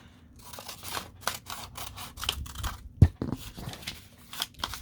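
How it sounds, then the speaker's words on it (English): Scissors cutting thick shipping paper: repeated crisp cutting and crinkling of stiff paper, irregular snips and rustles up close, with one sharp thump partway through. "So I think I'm going to have to use scissors."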